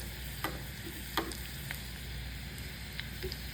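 Chopped garlic sizzles steadily in hot oil for a three-dal Sindhi tidali dal, a constant close fry with a few light stirring clicks scattered through.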